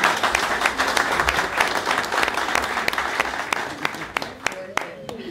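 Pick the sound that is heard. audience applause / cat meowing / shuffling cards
audience applause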